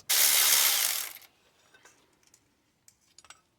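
A 14mm wrench works a bolt on a 1.6-litre 1993–97 Toyota Corolla engine during a timing belt and water pump job: a loud, dense rattling burst lasting about a second, followed by a few faint scattered clicks and taps.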